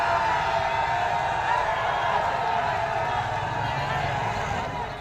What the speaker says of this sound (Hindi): 500 से अधिक लोगों की भीड़ नारेबाजी कर रही है।